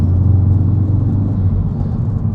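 A Ford Focus RS Mk3 with a Cobb air filter gives a deep, steady exhaust burble and rumble on overrun, loud and close, with no voices over it.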